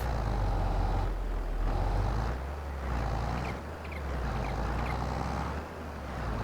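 A tractor engine in Farming Simulator 22 drones low and heavy as it strains to pull a load, its rumble swelling and easing in a few surges.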